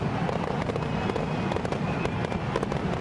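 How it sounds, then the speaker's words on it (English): Fireworks closing a baseball game ceremony at a stadium crackle and pop in rapid irregular bursts over a dense, steady roar of crowd and explosions. "With the fireworks to end off, I love that."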